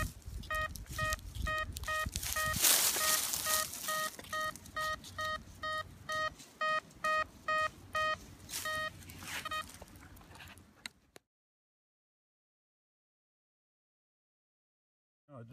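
Metal detector signal tone sounding as a long run of rapid, evenly spaced electronic beeps over scuffing noise, close and moderately loud, then cutting to silence.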